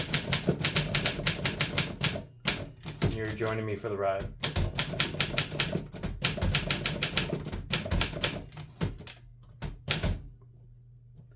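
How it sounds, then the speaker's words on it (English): Typewriter fitted with a two-tone ribbon, typing a client note: rapid bursts of close, sharp key strikes with short pauses and a brief carriage or return action, while a person speaks over part of it. "So I'm just typing the note that I typed to clients."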